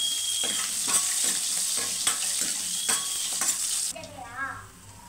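Chillies and crushed garlic fry in hot oil for a tempering, giving a continuous close sizzle with several sharp stirring scrapes, then the frying fades quieter near the end.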